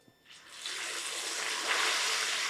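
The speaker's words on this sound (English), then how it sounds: "once they've had a nice generous coating, we'll get them in the deep fryer" Chicken wings coated in tapioca starch lowered into a deep fryer, a soft bubbling hiss that swells within the first second and then holds as a steady sizzle.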